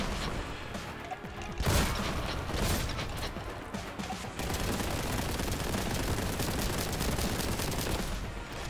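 Rapid automatic gunfire from Warhammer: Boltgun, a dense mechanical rattling stream of shots with a sharp blast near the start, continuous and loud throughout.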